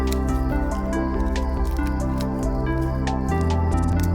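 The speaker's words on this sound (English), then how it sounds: "I pour out just enough resin to layer the bottom of each of the molds" Liquid resin poured into molds, thick drips and soft squishy splats landing in a close, steady patter, with no talking.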